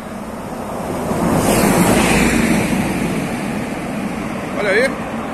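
Ocean surf rolls onto the beach at Porto Seguro's north shore, a loud, steady wash of waves with wind noise. A voice speaks over it and a brief chirp is heard near the end.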